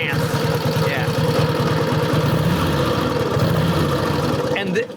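A rare vintage motorcycle engine idling steadily up close with a loud, even, throbbing low pulse. The mechanical clatter continues throughout and dips briefly at the very end.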